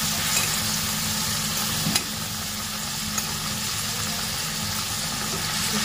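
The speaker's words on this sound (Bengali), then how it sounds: "ঝোল অনেক ফুটে গেছে, কড়াই এখন গরম।" Mustard-paste fish curry bubbles and sizzles steadily in a hot wok, with a spoon stirring through it and a couple of light scrapes against the metal, close and continuous with no talking.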